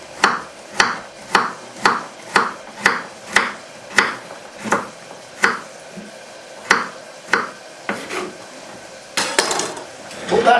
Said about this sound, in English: Cut it into strips, then cut the strips across.